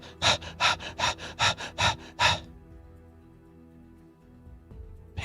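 A human voice imitates the heavy panting of giant wolves: about seven loud, rhythmic breathy gasps in quick succession, followed by quiet.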